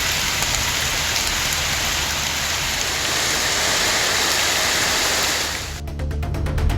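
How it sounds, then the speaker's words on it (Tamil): Heavy rain pours steadily onto a road, a dense, loud, continuous hiss that holds nearly unchanged throughout before briefly thinning and breaking up near the end. "திடீரென மழை பெய்தது"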